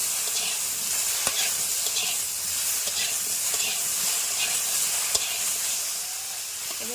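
Onions or aromatics for a hilsa dish with gandharaj lemon are sautéed with salt in a pan, giving a steady close hissing sizzle with occasional faint clicks of stirring throughout.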